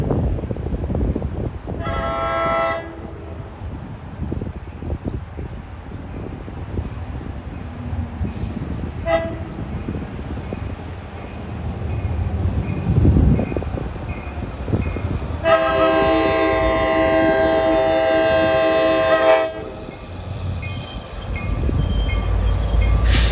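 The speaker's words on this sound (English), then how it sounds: "Metro North painted locomotive." A train led by a locomotive in Metro North paint passes with a steady low rumble, punctuated by several loud horn blasts, the longest lasting a few seconds near the end.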